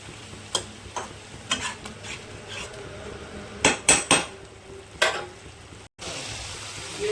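Spoon clinks and scrapes against a pot while masala paste for Kashmiri aloo dum fries in oil, sharp irregular metallic taps over a faint sizzle, with one brief dropout near the end.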